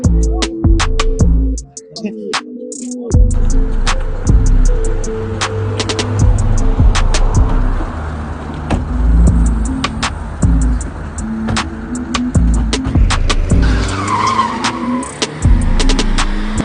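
A car engine revving loudly nearby with skidding tire noise and rumbling motion, continuous through the scene, with speech over it.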